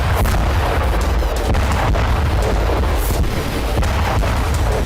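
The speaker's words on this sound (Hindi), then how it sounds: "यूक्रेन की राजधानी कीव में रूस ने एक के बाद एक 40 मिसाइलों की बरसात की" Russian missile strikes hit Ukrainian cities, including Kyiv, in a loud, continuous barrage of booming blasts and sharp cracks, with repeated impacts layered over a heavy rumbling roar.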